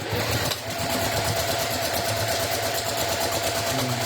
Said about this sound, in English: So I'm going to place that under the machine and stitch across.